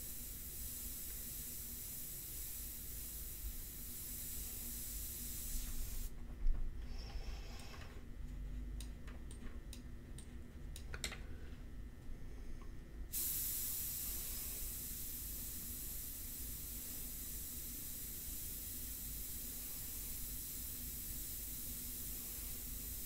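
Airbrush spraying ink onto a portrait, with the air compressor set to 25 PSI, a soft steady hiss of air that cuts out briefly for a few seconds and then resumes at a constant faint level.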